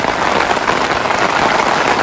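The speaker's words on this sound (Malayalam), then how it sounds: "ഇവിടെ ഇപ്പോഴും മഴ തുടർന്നുകൊണ്ടിരിക്കുക" Heavy rain keeps falling during severe river flooding in Central Tennessee, a loud, dense, steady wash of drops close by with no pauses and no talking.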